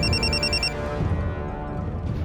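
A mobile phone rings in a crime drama scene, a quick pulsing electronic ringtone lasting under a second before it cuts off, leaving low background music and rumble.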